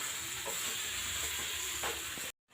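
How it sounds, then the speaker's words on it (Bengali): Chicken with papaya and spices sautéing in a pan gives a soft, continuous sizzle with occasional light stirring scrapes, fairly quiet, cutting off abruptly near the end. "পেঁপে মশলার সঙ্গে সবগুলো আমি ভালো করে কষিয়ে নেব।"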